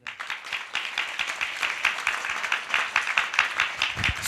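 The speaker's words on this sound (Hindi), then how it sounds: "और डैनियल के लिए एक बार ताली बजाएं।" An audience claps steadily at a church gathering, a dense, even patter of hands that continues without break from start to finish.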